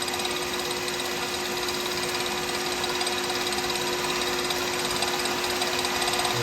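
A turned pen blank spins on a lathe while being dry-sanded with 3000 grit, a steady, even motor whir and fine abrasive hiss holding constant throughout.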